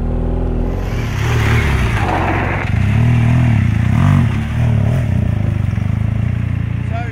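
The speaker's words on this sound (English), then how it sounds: "Little burst of throttle and clutch, just as it goes up the ledge" A BMW GS motorcycle on an off-road training course gives a short throttle burst with clutch as it climbs a ledge, its engine rumbling loud and close, rising and swelling briefly over a steady low idle.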